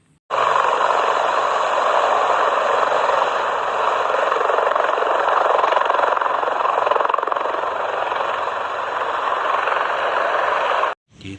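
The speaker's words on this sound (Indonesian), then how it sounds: "ada helikopter" A helicopter drones steadily nearby, its engine and rotor noise holding a constant, loud level for about ten seconds before cutting off abruptly, with no talking over it.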